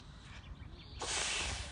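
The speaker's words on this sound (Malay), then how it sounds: "Okey, ni Nufa baru belajar tiup belon." Close, breathy hissing of a child blowing into a balloon, a soft rush that suddenly grows into one strong, sustained puff.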